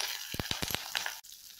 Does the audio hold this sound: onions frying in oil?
yes